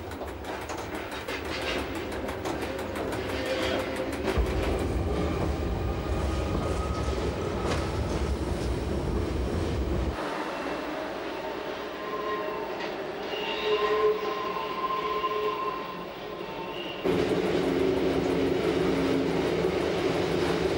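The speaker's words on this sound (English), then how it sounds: "our train can pass smoothly over the repaired section" An Appenzell Railways train runs along the track, a steady loud rumble of wheels on rails with changing tone as it passes sections, wheel squeal and clatter rising and falling throughout, no voices.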